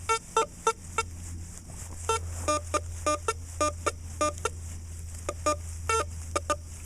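A Makro CF77 metal detector beeps over a buried target signal, sounding a string of short, sharp electronic tones in irregular bursts as the coil sweeps back and forth, with a low steady hum underneath.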